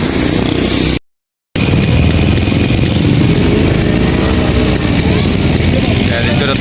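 Vintage motorcycles gathered on a group ride in Bulacan and Nueva Ecija run loud and close, a continuous rough engine drone that cuts out briefly once and then carries on steadily.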